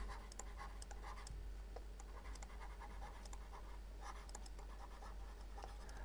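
Pen scratching on paper while a maths answer is written out by hand, soft continuous strokes with small ticks, close and quiet, no talking.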